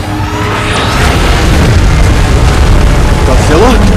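Mega Godzilla's beam strikes in PUBG Mobile with a loud, sustained roaring blast, dense, booming and close, with a voice faintly underneath.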